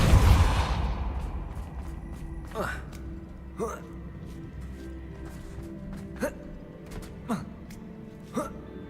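Depulso and Accio spells are cast in Hogwarts Legacy, giving a loud whooshing burst at the start followed by a series of short swishing casts at spaced intervals over quiet game ambience.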